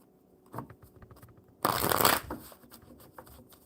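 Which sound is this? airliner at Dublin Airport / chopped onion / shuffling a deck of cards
shuffling a deck of cards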